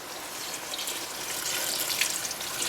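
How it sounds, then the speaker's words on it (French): Water pours into a pot while honey mushrooms are being cooked, a steady close hissing splash that grows slightly louder over a few seconds, with no voices. "Allez, je mets un peu d'eau ici."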